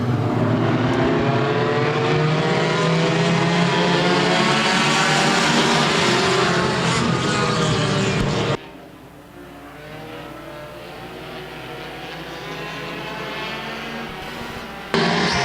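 Race cars at Stockton 99 Speedway roar past in a loud pack of engines, then the noise drops away sharply to a more distant drone before swelling back.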